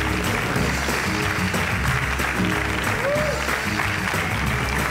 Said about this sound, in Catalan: Els aplaudim fort, sisplau.